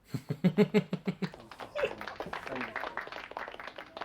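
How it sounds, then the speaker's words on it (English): A short run of about nine distinct claps sounds close and loud for a second and a half, then fades into mixed chatter and scattered noise from a few people. "You can all applaud me now if you like."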